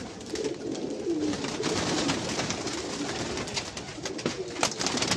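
Soft pigeon coos repeat low under a busy outdoor backdrop with birds chirping, the cooing steady and fairly close, as pigeons land after grain is scattered.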